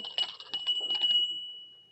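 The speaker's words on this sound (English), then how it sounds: "At least we'll try the bell once more" A single bell rings in an old radio drama, several quick bright strikes followed by a sustained tone that fades away.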